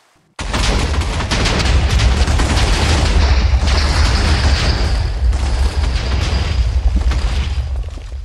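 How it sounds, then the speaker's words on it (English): A particle bomb warhead detonates in the space game Alpha Factions: a sudden loud blast kicks in and rolls into a sustained, dense roar of booming explosions and crackling fire lasting several seconds, with no talking. "Manual particle bomb detonation warhead."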